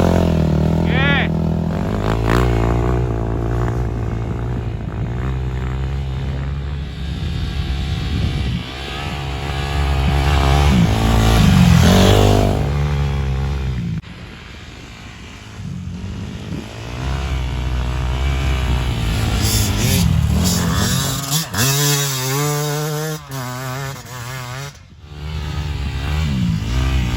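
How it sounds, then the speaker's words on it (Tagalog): Dirt bike engine running during a first-time ride, a loud continuous motor drone with rising and falling revs throughout, heavily mixed with voices talking over it. "Sarap pala mag dirt bike."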